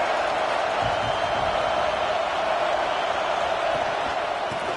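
A stadium crowd roars in the College Football 26 video game during a game against Colorado, a steady, unbroken wash of noise that holds at an even level throughout.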